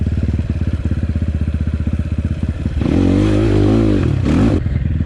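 An enduro motorcycle engine drones loud and steady close by at a rural enduro race near Yaroslavl, its pitch climbing and wavering as the rider revs through a gear change before the throttle drops off.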